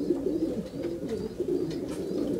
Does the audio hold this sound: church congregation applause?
no